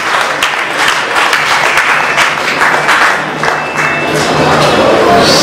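Church congregation at a worship service in Kinshasa applauding loudly and steadily throughout, a dense wash of many hands clapping with faint crowd voices mixed in.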